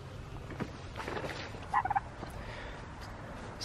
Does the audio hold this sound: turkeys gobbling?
yes